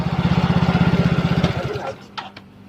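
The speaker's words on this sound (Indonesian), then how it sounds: "motor injeksi kembali hidup" A fuel-injected Yamaha Mio Soul GT scooter engine idles with a fast, steady chugging pulse, then cuts out and fades, leaving a couple of faint knocks.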